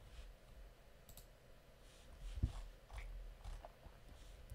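Faint clicks on a desk, a few separate taps spread out at a quiet level, with no talking.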